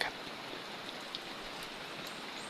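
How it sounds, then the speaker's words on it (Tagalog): Heavy rain pours down in a steady, dense hiss, constant and fairly faint, with a few louder drops and splashes standing out now and then. "Kasi napakalakas ang ulan."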